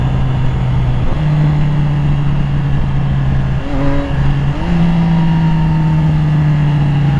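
A Triumph Daytona 660 motorcycle engine on the move, heard as a loud, steady drone that drops in pitch around a gear change partway through and then climbs again with the revs.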